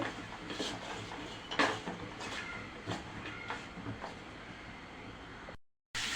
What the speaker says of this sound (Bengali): সবজিগুলো খুব ভালো করে নেড়ে ছেড়ে দিব